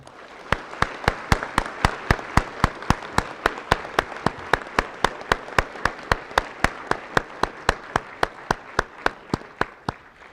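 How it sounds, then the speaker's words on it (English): Steady, evenly spaced claps ring out alone at a Veterans Day ceremony at a high school in Pinedale, a sharp, loud rhythmic clapping that carries for about ten seconds with no talk over it. "Big round of applause"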